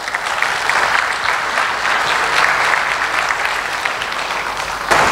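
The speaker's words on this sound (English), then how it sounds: "A great applause to the organizers." Conference audience applauding the organizers after a keynote, a dense, steady wash of many hands clapping at close range for about five seconds, with no talk over it.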